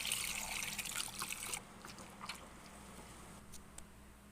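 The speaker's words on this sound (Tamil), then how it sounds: "புளி தண்ணி சேர்த்துக்கலாம்." Tamarind water is poured into a fish curry mixture, giving a close, quiet trickling splash for about a second and a half before settling into faint background noise.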